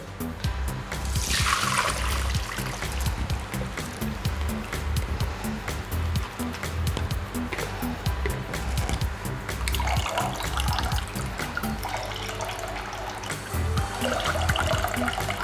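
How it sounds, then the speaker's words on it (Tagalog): Cooking water poured off boiled potatoes for hash browns, a steady loud splashing and trickling stream that carries on for the whole stretch with no voices. "i-drain natin yung tubig nung nung potato"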